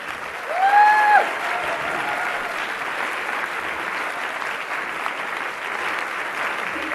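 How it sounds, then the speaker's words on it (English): A large audience at a National University of Singapore event with Neil deGrasse Tyson and Ann Druyan claps in a steady, slightly distant roar. A brief whistle-like tone cuts through near the start. "A round of applause one more time."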